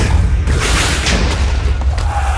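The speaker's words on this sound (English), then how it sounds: "Got a little bit of the impact from the explosion." A loud booming explosion in the video game TolkienCraft II fills the whole stretch, a dense continuous rumble with sharper bursts layered over it, with no talking.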